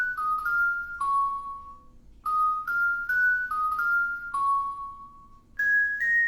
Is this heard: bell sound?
yes